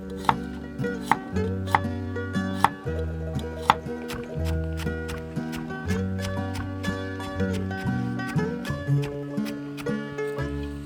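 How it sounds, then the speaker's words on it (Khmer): A knife chops three garlic cloves on a cutting board while preparing green mango with dried fish, giving a run of quick, crisp taps in uneven bursts over soft background music. "ខ្ញុំច្រាមខ្ទឹមសចំនួន3កំពឹស"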